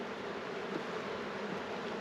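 Bees buzz in a steady, dense drone throughout a hive inspection, close and continuous with no voices.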